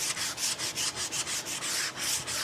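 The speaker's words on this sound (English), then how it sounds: "Use a fresh piece of sandpaper." Sandpaper rubs back and forth in quick, regular strokes, a close, scratchy rasping that repeats about ten times.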